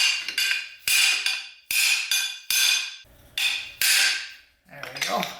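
A big wrench hammered against a pressed-on cover on a 4L80E transmission gives repeated loud, ringing metallic strikes with a steady rhythm and lingering resonance, and a brief voice at the end.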